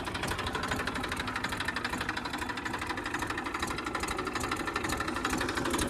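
A tractor engine runs steadily and loudly close by, a dense, continuous mechanical rumble with rapid rattling pulses and no pauses.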